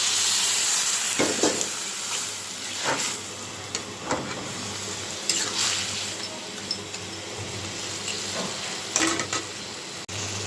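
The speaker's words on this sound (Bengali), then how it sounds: "কষানো হয়ে গেছে মাছটা এখন আমি অল্প একটু জল দিয়ে দেবো" Tangra fish sizzling in a pan as a little water is added, giving a steady hiss broken by repeated scraping stirs of a spatula, no voices.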